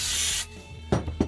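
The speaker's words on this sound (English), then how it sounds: "spray it down" A steady aerosol glue spray hisses onto a paper knife template for about half a second, followed by a few soft rubbing and handling sounds.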